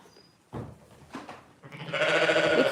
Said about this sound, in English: Yeah, it's Nemesis. It's Nemesis that's lambing.